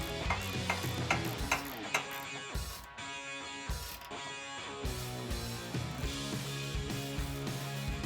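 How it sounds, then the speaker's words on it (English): A socket wrench ratcheting to tighten a nut while installing an exhaust system on a 2011-2014 Ford F150 EcoBoost: steady, fairly close mechanical clicking runs throughout, with a couple of brief pauses and no talk. "grab the socket and wrench again and tighten that back down"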